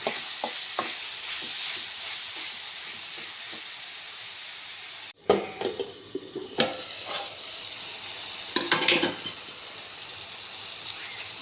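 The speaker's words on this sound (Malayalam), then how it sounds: "വീണ്ടും ഇളക്കുക." Chopped onion and tomato fry for a chicken curry, a continuous sizzle broken by a sharp cut, then scraping spoon strokes and clatters against the pan, close and moderately loud, with no talk.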